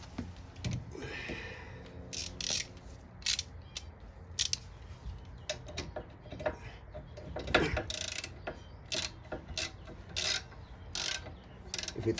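A 17 mm socket wrench ratchets in repeated short bursts of clicking, close up, while working a rear arm bolt loose on a 10th-generation Honda Civic during a brake job.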